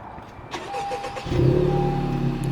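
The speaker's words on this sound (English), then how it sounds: "Push the clutch in, and then push the start button right there." A manual car, a Honda Civic Type R or Ford Focus RS, is started with a push button, its engine catching about a second in and settling into a steady, loud idle rumble close by.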